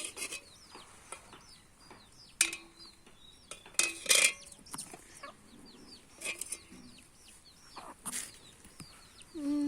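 Chickens cluck in short, scattered bursts, some close and some farther off, with small bird chirps between them and a few louder squawks.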